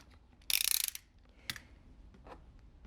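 A recycled wine cork being cut, heard as a sharp, close-up burst of rapid ratcheting crunches followed by a couple of softer isolated cuts, with no speech.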